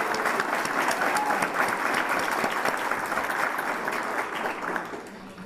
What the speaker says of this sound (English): it can be another round of applause for early childhood education.